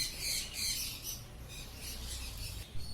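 Budgerigars chirp and squawk in a dense, high chatter at a bird market, with many birds overlapping continuously and no voices in the foreground.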